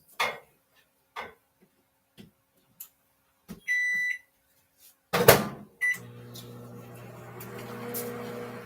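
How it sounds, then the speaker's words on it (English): A kitchen microwave oven heats butter for cookie baking: a few sharp taps and button beeps, a door click, then the oven starts with a steady low electrical hum that continues to the end. "I'm going to pop this in the microwave for 30 seconds"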